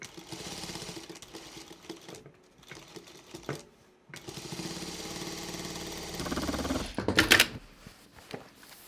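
A sewing machine runs in steady bursts while stitching a cloth shopping bag, a quiet mechanical whir broken by short pauses, with a brief sharper clatter near the end.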